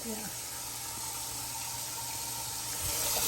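Tap water runs steadily into a kitchen sink while dishes are washed up, a continuous hissing splash that swells slightly toward the end, close by and fairly quiet.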